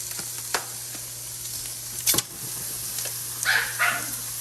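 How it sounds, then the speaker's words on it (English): Beef browning in a hot pan, a steady crackling hiss with a few sharper pops and scrapes; no voices. "Sizzle, baby, sizzle."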